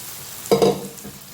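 Mung beans are tipped into frying masala in a pan, a short close burst of sizzling and scraping at about the midpoint, set against a quiet background hiss.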